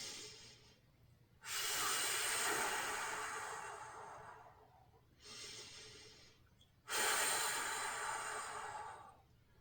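A person breathes deeply while recovering from an abdominal core workout: slow, loud, close airy breaths, with long exhales and a quiet gap between them.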